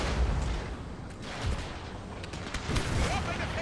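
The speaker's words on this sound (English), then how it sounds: "And then the cannons will switch to target the enemy general." Cannon fire in a Total War battle set in the Thirty Years' War: dense, continuous booming and crackling volleys with no clear gaps, heard at a steady, moderately loud level.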